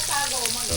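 Ararawan, a small crab, deep frying in hot oil, giving a steady close bubbling sizzle across a brief moment, with a faint voice near the end.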